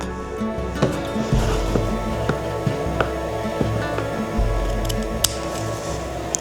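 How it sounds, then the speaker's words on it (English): Several crisp snips of scissors cutting a flower stem at an angle, spaced irregularly over steady low background hum, close and fairly clear. "Do an angled snip."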